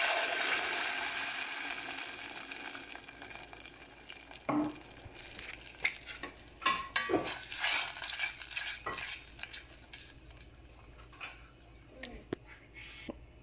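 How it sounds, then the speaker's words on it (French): Onion or shallots frying in a little oil in a pan, a soft steady sizzle broken by frequent scraping and clinking stirs from a utensil, close and moderately quiet. "On les fait revenir avec un petit peu d'huile."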